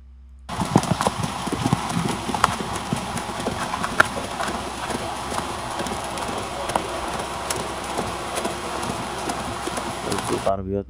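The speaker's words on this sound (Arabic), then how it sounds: "عمل لنا صوت كأن في حصان بيمشي" An AI-generated sound effect of a horse walking plays, with steady, close hoof clip-clops on a hard surface lasting about ten seconds before cutting off abruptly.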